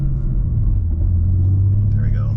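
A BMW M3 G80 accelerates through a first-to-second gear change, its deep engine rumble holding steady and then rising in pitch as the revs climb, heard from inside the cabin.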